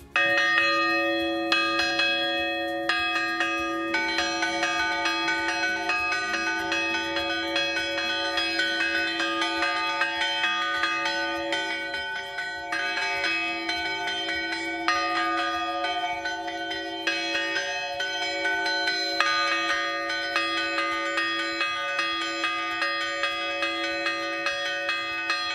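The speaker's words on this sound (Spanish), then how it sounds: "cómo suenan estas campanas de bronce de Montehermoso" Bronze church bells of Montehermoso ring a festive peal, a dense, continuous run of overlapping strikes that stays loud and clear throughout, with no voices.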